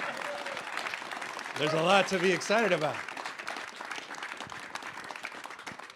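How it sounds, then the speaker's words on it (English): An audience at the announcement of Tesla's global engineering headquarters in California keeps up a steady patter of applause, while someone speaks briefly over the clapping. "Applaud, everybody."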